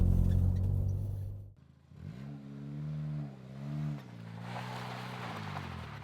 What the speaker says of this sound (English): If you just give it a little gas as you let the clutch out, when you feel the clutch start to engage, release the parking brake and drive away.